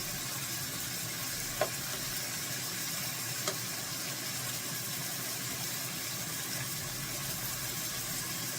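Seasoned chicken strips sear in a hot pan with a steady, quiet sizzling hiss, broken by two faint clicks.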